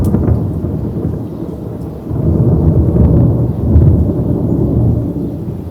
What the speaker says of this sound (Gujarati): વીજળીના કડાકા ધડાકા થતા હશે એનો અવાજ તમને સંભળાતો હશે